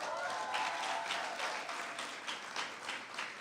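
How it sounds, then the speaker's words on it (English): Applause from a graduation ceremony audience at Portmore Community College for the class of 2021, steady dense clapping sustained throughout at moderate distance, with no one talking over it. "Clap them, clap them."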